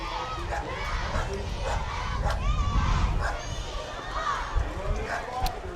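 Young cheerleaders shout a cheer together while marching in a community Americana parade, energetic group yelling amid a noisy street crowd, with some nearby talk mixed in.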